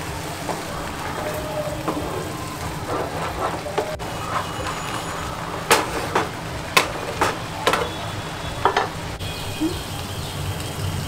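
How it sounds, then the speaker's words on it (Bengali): Green Thai curry paste fries with coconut milk in a pan, giving a steady sizzle with scattered clinks and scrapes of stirring, fairly close and under no talk. "এটা একটু কষা হওয়ার জন্য আমি একটু নারকেলের দুধ দিয়ে দেবো।"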